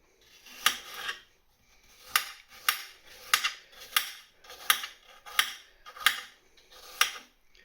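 A knife chops cooking apples on a board in a home kitchen, about nine crisp, distinct cuts in an uneven rhythm with quiet pauses between, close and clear.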